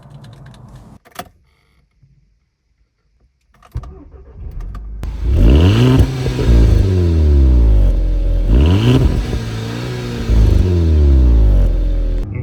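VW Golf 6 GTI exhaust revving against the rev limiter: a few faint clicks and a short start burst, then loud, bassy engine blips climbing and bouncing repeatedly off the limiter, close by.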